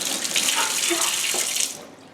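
Hot water streams from a freshly replaced kitchen faucet into the sink, a steady close splashing rush that cuts off near the end.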